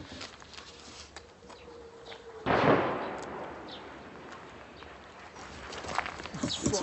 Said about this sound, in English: That's U-Crop artillery inside the 100-kilometer zone shooting at us.